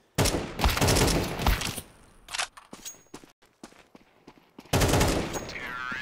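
USP pistol fire during a professional Counter-Strike match, rapid bursts of close gunshots at the start and end with scattered single shots, footsteps and clicks in between.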